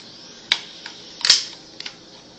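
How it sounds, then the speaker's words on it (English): Several small, sharp mechanical clicks from an airsoft pistol being put back together, with two stronger snaps among lighter taps. They sound close but fairly quiet, and no one speaks. "See, it made a click sound"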